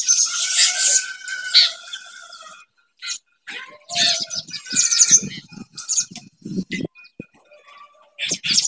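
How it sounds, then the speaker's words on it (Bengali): Several birds chirp and call outdoors just after a storm and rain, with bright, scattered tweets in quick bursts and short pauses, fairly close and loud. "কত পাখি এসছে।"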